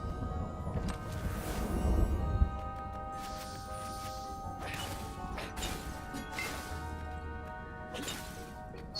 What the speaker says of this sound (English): Some more lovely little crystal smashes.